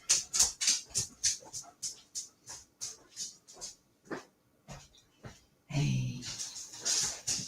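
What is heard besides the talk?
dog whimpering to be let out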